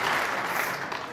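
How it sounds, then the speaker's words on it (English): Applause from a snooker crowd at the World Championship final, a dense burst of clapping that starts loud and close and fades slightly over about a second, with no talk over it. "Crowd certainly like it."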